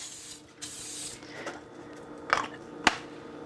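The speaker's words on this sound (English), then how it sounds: "I've got some coconut oil spray that I'm going to use" A short hiss of a coconut oil non-stick aerosol spray, a burst lasting about half a second, followed by a few faint clicks and a sharp tap nearby.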